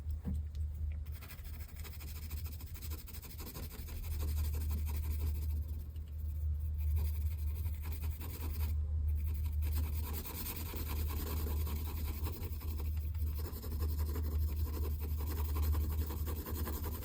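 A pen scratches and scribbles across paper while sketching a Yu-Gi-Oh manga character, with close, soft strokes that come in bursts separated by brief pauses over a steady low background hum.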